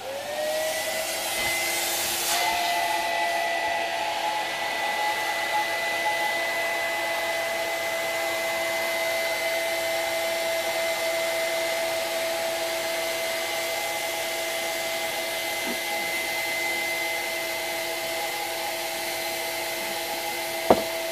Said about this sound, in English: switch your hoover on.